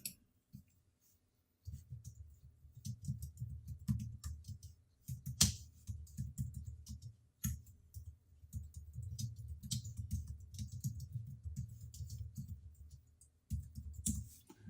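Quiet clicking of computer keys in irregular bursts with short pauses between, close by and without speech.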